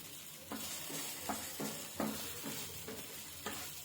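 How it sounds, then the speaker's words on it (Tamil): Tomatoes and rock salt frying in a pan for mint leaf chutney, a steady sizzle broken by several rhythmic stirring scrapes, close and moderately quiet with no talking. "தக்காளி நல்லா வறுப்பாட்டு வரட்டும்."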